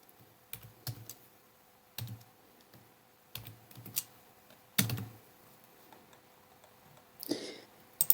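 Fingers type on a computer keyboard while entering enrollment details, with irregular clusters of soft close-up key clicks and a few louder taps over a faint steady hum, without any talking.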